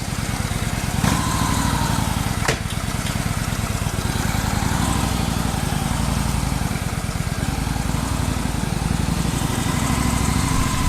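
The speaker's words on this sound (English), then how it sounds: "I'm just going to do a quick ride around the cul-de-sac here." A Victory Hammer 8-Ball motorcycle engine runs at a steady idle in a cul-de-sac, a constant loud close rumble that does not change for the whole stretch, with no voices.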